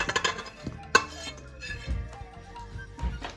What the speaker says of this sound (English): So I'm now adding all the ingredients to the bowl.